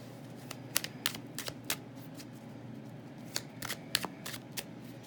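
Tarot cards being shuffled by hand, a series of quick crisp riffles and snaps in two short bursts separated by a pause, close and fairly quiet over light room hiss.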